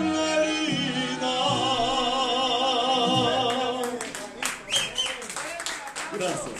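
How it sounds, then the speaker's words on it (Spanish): An audience applauds at a live music performance, with clapping rising over the final sung notes and continuing loudly after the music fades. "Fuerte, fuerte el aplauso."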